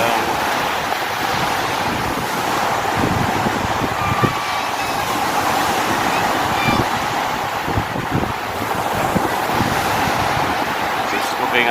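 Strong, steady wind roars across the microphone in General Santos City, Philippines, blending with a constant surf-like rush, loud and unbroken throughout.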